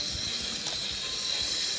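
Steamed chicken marinade pours into a pot of simmering onions for chicken yassa, a steady close liquid splash and trickle that runs without a break for under two seconds, with no voices.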